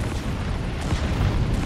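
Explosions in the Metal Gear Solid 5 video game, as scanning machines blow up, give a dense, rumbling blast that stays loud and continuous for under two seconds, with no speech.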